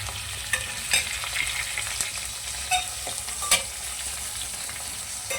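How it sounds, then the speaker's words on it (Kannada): Onion, tomato and garlic frying in hot oil for sambar masala, a loud continuous sizzle close by, broken by several sharp clinks and scrapes of a stirring spoon against the pan, with no talk. "ನಾವು ಇಚ್ಚಿಟ್ಕೊಂಡಿರೋ ಈರುಳ್ಳಿ, ಟೊಮೆಟೊ, ಬೆಳ್ಳುಳ್ಳಿ ಎಲ್ಲ ಹಾಕ್ಬಿಡೋಣ. ಸೊ ಫ್ರೈ ಮಾಡ್ಕೊಳ್ಳೋಣ."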